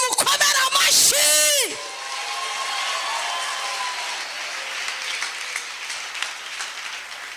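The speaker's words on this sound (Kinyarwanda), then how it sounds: "ushatse umukomera amashyi" A church congregation erupts in loud, close applause mixed with yells and whoops for about a second and a half, then a softer stretch of scattered clapping and murmuring follows.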